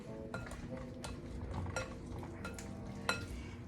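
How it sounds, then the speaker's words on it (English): Strawberries being mashed with a potato masher for old-fashioned jam, giving soft squishing and stirring noises with light metallic clinks against the pot, close and fairly quiet, with no talking. "Let's see how easy these crush. I'm going to use my potato masher."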